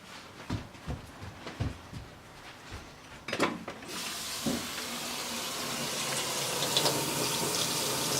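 Water pours and splashes through a leaky 3D-printed three-sided square, a few knocks and taps first, then a steady, fairly loud hiss of running water that builds and carries on to the end.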